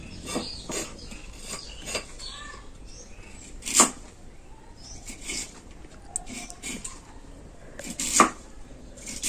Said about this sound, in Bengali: এরকম করে পাতলা পাতলা করে আমি কেটে নেব